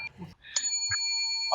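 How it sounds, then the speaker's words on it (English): A bright electronic alarm chime rings a steady sustained tone to signal the end of a session, sounding close and clear, with brief talk just before it. "that's my alarm to tell me our session has ended"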